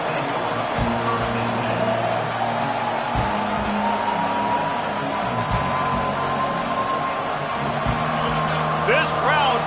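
A packed football stadium crowd roars and cheers steadily throughout a college game, a dense continuous wall of noise with whoops rising above it, while a commentator talks over it.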